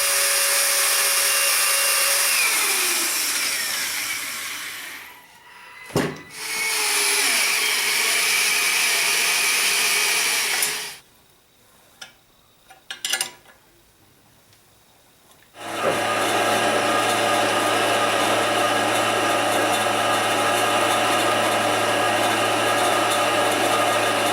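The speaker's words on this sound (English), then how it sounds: "over to the drill press and re-drill all the holes for these 2 plates" Loud whirring drill press re-drilling holes in metal plates for an anvil stand, running in long stretches, broken by a quiet pause with clicks and handling noises before the motor starts up again.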